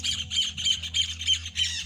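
Parakeets squawk in a rapid repeating series of harsh, shrill calls at a farm, about six bursts in under two seconds, loud and close with no talking.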